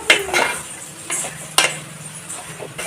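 Finely chopped ivy gourd leaves stirred and sautéed in a pan, sharp spoon scrapes and clinks against the metal at irregular intervals over a soft low sizzle; no voices.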